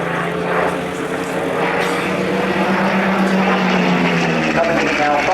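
A Hawker Hurricane propeller fighter flies overhead at the Biggin Hill Air Fair, its engine a loud, steady droning roar with a slowly shifting pitch that fills the whole stretch.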